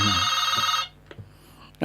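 Telephone ringtone from an incoming call, a steady electronic tone with pulsing harmonics that cuts off partway through, followed by quiet room noise, a few soft knocks and the start of another sound at the end.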